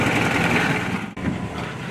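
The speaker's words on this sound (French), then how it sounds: "On l'entend bien le moteur? Ouais, on l'entend, oui." An old car engine runs at a steady idle with a buzzy, rattling drone and one brief dip midway.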